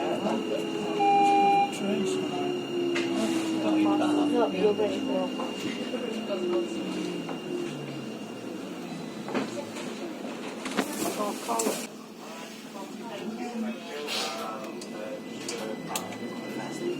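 A Sheffield tram train pulls away slowly from a station, its motor whine sliding downward in pitch while wheels rumble and rattle steadily beneath, with a faint hum and ticking around it.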